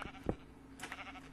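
Short synthetic sheep bleats from the video game Minecraft, a brief burst near the start and a fainter one later, alone with no talk over them.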